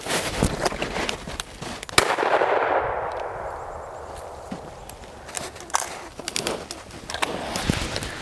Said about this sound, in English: Nice shot, Ben.